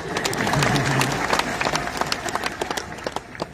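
An audience claps in a dense, loud burst of hand claps that gradually thins into scattered, uneven claps, with crowd murmur underneath.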